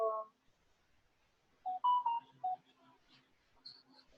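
Phone keypad tones beep as numbers are tapped into a phone's calculator: one tone at the start, then after a quiet gap a quick run of several beeps and a few fainter ones trailing off.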